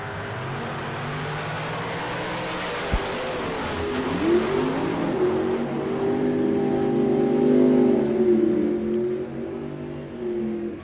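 A drag racing roadster accelerating at Tucson Dragway, a loud engine roar building and sweeping upward in pitch as it pulls away down the strip, heard from trackside with no talk.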